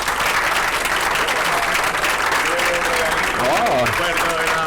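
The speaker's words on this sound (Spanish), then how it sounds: "Le damos un aplauso a Ignacio." An audience closes a lecture seminar on the wine microbiome, from vineyard soil to fermentation, with loud, continuous applause; near the end a voice can be heard over the clapping.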